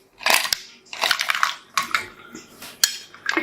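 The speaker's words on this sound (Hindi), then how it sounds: "अब इसमें डाल दूँगी लास्ट में आइस क्यूब्स।" Ice cubes clatter into a glass of a homemade iftar drink garnished with almonds and pistachios, a run of sharp, bright clinks and crunching knocks in quick bursts, close and fairly loud with no talk.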